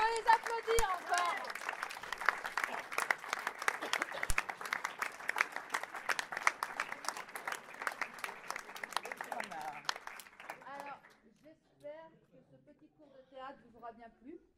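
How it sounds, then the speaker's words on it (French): Theatre audience applauding the actors after a French stage play, a dense sustained wave of clapping for about ten seconds that thins into scattered claps and fades out. "On peut les applaudir encore."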